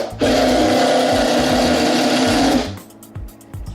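A power driver runs steadily for about two and a half seconds as it drives screws into a wooden dummy adapter at a sawmill, a loud continuous whirring buzz that stops abruptly, followed by quieter handling clatter.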